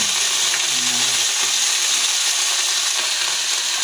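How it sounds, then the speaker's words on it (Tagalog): String beans tossed into garlic frying in a pan, giving a steady broadband sizzle that holds at an even level throughout, with a few faint stirring clinks near the start. "Yan, ilagay na natin itong sitaw guys."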